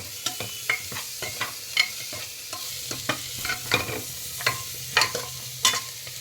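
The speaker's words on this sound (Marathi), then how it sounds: "हे बटाटा जो आपण भिजवून ठेवला होता साले काढून तो घालत आहे त्या पद्धतीने ते हलवून परत हलवून घ्यायचं आहे" Boiled, peeled potatoes are stirred into sizzling pav bhaji, the spoon striking and scraping the pan in a loose, uneven rhythm of close knocks over a soft, constant frying hiss, with nobody speaking.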